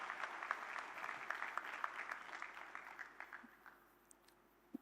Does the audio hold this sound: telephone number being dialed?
no